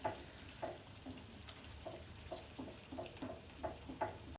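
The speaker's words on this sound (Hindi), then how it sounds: "दही भी मैंने डाल दिया इसमें, और इसे भी दही को डालकर भी बहुत अच्छी तरह से मैं भून लूँगी इसके अंदर मिक्स करके" Masala fries with yogurt in a pan for a bone-in meat curry, giving a quiet continuous sizzle broken by soft, irregular taps of stirring.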